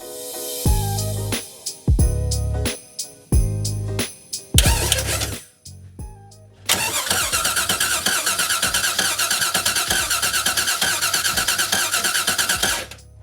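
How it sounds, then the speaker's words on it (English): A boat engine cranking on its starter in several short bursts with pauses, then a long continuous run of rapid, rhythmic chugging turning over. "We're going to connect to the engine to see if it'll turn over."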